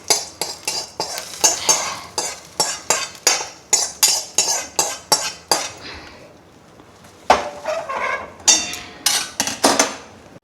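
Spoon scraping and clinking against a metal bowl as tempering is stirred into hotel-style mint chutney, a quick regular run of sharp strikes, a brief pause, then more clatter up close.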